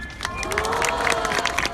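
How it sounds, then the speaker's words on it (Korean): Audience clapping at a protest rally, a steady dense wash of applause with scattered sharper claps and faint voices mixed in, close and continuous. "제가 그냥 호명하면 손을 흔들어 주시면 우리 박수 치는 걸로 하겠습니다"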